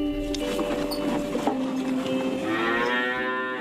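Cows low repeatedly in long, drawn-out moos, several overlapping nearby, over barn clatter and a constant background hum on an alpine farm.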